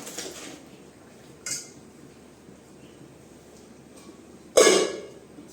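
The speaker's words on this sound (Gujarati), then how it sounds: "આપણે આ ટમેટાની ગ્રેવી છે એ નાખી દઈશું" Tomato gravy being added to cooked spinach in a pan, marked by two distinct metallic clinks of a spoon or utensil against the pan over quiet background, the second louder.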